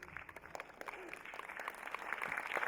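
Audience at a Walk of Hope gathering clapping, scattered claps building into fuller applause over a few seconds, moderately distant.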